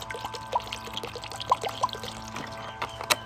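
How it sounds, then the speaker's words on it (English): Vita Coco pressed coconut water poured into a bowl of fruit, soft irregular trickles and small splashes in short bursts, close and fairly quiet, with no talking. "And then you're gonna take your coconut water."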